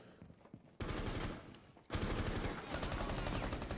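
Rainbow Six Siege gunfire: a loud burst of rapid automatic shots, a short lull, then a second sustained volley of rattling fire, heard close.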